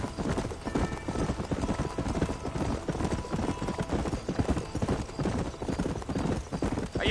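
Horse hooves gallop in the Red Dead Redemption video game, a fast, steady clip-clop rhythm running throughout at close range, with an occasional whinny and faint voices under the hoofbeats.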